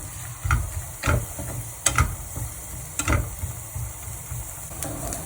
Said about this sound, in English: Once the oil is hot, we'll put the chopped onions